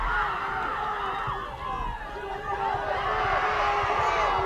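A crowd at a boys' varsity soccer game between Bolton/Warrensburg and Lake George, heard as a loud, sustained swell of cheering and excited voices from the sidelines, building steadily through the moment.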